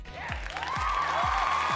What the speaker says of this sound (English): And the crowd is on their feet.